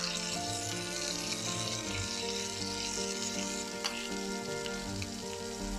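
Beef steak sizzles steadily in a hot pan, a dense continuous crackle and hiss with scattered pops running throughout, close and fairly loud with no talking.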